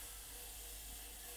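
An airbrush sprays paint onto a skull as a steady, close hiss that runs unbroken without any talking.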